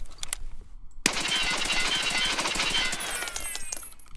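A single gun fires one shot, then after a short pause breaks into sustained full-auto fire in Escape from Tarkov, a loud, rapid, unbroken stream of shots, close by, fading into a few trailing ringing tones at the end.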